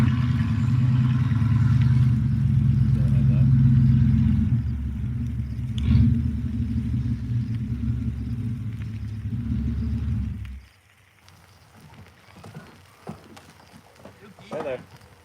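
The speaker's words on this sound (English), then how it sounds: "My son's about ready to pull in the backyard with his loud truck." A loud truck pulls into a backyard, its heavy engine rumbling steadily close by for about ten seconds before cutting off, leaving quiet room sound with a few faint voices.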